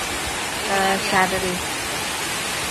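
Heavy monsoon rain falls in a steady, dense hiss that runs the whole time, with someone speaking briefly over it.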